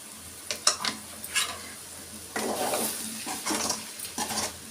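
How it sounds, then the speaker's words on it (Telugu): Chili powder frying in oil on a low flame for horse gram curry, with a steady soft sizzle and intermittent spoon scrapes against the pan, close and moderately quiet, no voices. "ఇప్పుడు దాన్ని లో ఫ్లేమ్లో పెట్టి మిరప్పొడి వేసుకుందాం"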